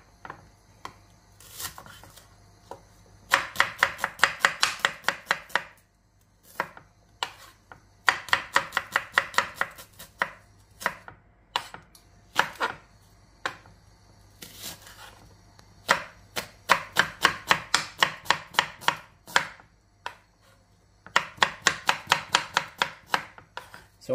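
A knife slices onions into rings on a board in rapid bursts of crisp, even chops, each run lasting a few seconds and separated by short pauses, close and clear with no talking.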